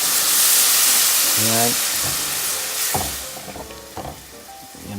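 Half a cup of water hits a pan of sautéed corned beef with garlic and onion, setting off a loud, hissing sizzle that slowly fades to a softer bubbling. A voice speaks briefly.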